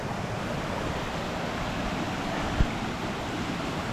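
Rhiwargor Waterfall rushes as a steady, broad roar of falling water, loud and continuous throughout, with one brief knock partway through and no talking.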